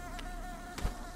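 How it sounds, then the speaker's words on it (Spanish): Insect buzzing drones steadily in the Hollow Knight video game's bee area, a faint, continuous high-pitched whine with a brief soft thud near the end, no voices. "Porque hay tanta abeja."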